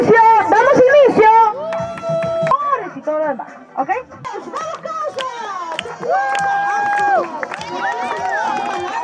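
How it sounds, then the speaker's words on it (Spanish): A crowd at a birthday and Día del Perro criollo gathering cheers and shouts loudly, with voices overlapping in an excited, sustained clamour and scattered clapping. "¡Aplausos!"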